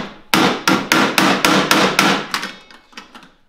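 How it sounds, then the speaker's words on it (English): A hammer hits a wrench wedged into a locked metal toolbox found in a storage unit: about eight sharp, loud metallic blows in a steady rhythm, then a few softer, scattered taps as the strikes fade. "we found a wrench to fit right in there, and we got a hammer"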